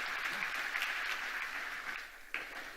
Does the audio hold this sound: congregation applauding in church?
yes